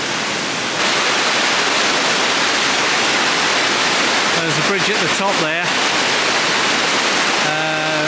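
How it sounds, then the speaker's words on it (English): A waterfall by a bridge in the French Alps roars as a loud, constant broadband rush, with someone speaking briefly over it near the middle and another voice toward the end. "we've just stopped on this bridge again, another bridge, a fabulous waterfall"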